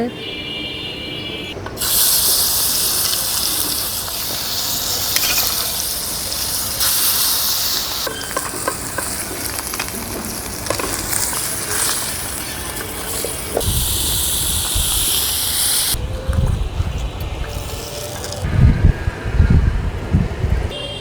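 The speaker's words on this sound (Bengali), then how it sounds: "ফ্রাই প্যান বসাই দিলাম, তেল দিয়ে দিলাম মাছ ভাজার জন্য" Oil heats and sizzles in a frying pan ahead of frying freshwater fish in a village kitchen, a continuous hiss that shifts and swells, with bursts of louder spitting and some rubbing, scraping handling noises.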